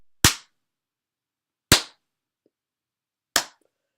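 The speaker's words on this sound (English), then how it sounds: "You bring no excuses to random gunshot noise." Three sharp, loud gunshot sound effects fired one at a time with even gaps of about a second and a half, each a dry crack with a short tail, alone with no talk.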